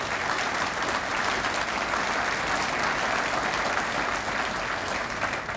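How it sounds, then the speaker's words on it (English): A large audience at the TeamUP 2015 event gives a long round of applause for the District 9 winners, a dense, steady roar of clapping that holds loud and unbroken from start to finish. "Let's go ahead, give them a round of applause."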